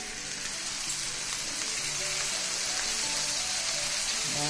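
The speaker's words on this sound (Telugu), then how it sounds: "ఇప్పుడు ఇందులోనే ఇందాక ఉడికించి పెట్టుకున్న కాలీఫ్లవర్ ముక్కలు వేసుకుందాం." Boiled cauliflower pieces go into a hot pan, and a dense, steady sizzle hisses loudly and evenly from start to finish with no voices.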